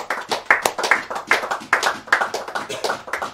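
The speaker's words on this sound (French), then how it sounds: "On applaudit le Seigneur qui nous a guéris" A small congregation claps in praise at a French-language evening church seminar, a brisk, fairly even run of near hand claps lasting a few seconds with no talking over it.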